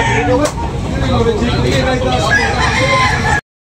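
Roosters crow at a busy Sunday morning chicken market in Tabunok, Talisay, loud overlapping calls rising above a dense crowd babble with someone talking nearby.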